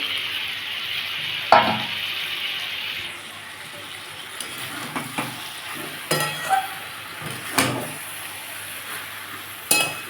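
A mixed vegetable curry with capsicum sizzles steadily in a pan, close and clear, broken by intermittent scraping clacks as a spoon stirs it.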